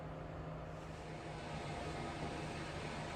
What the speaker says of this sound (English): I got a couple fans on it and they're going because it's kind of cold out here.